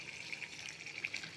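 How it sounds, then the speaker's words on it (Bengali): Water poured into a cooking pot on a stove, a short soft trickling splash at close range with faint bubbly gurgles. "এটা থেকে আর একটু বেশি জল দেব।"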